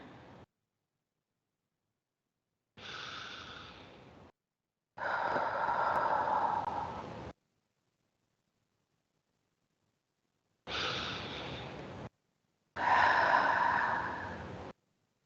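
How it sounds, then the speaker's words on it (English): Deep breaths in and out during a guided rest, heard as four separate breath sounds with silent gaps between them, each lasting one to two seconds, close and fairly soft, with no talking. "taking a few deep breaths in and out can reset your body"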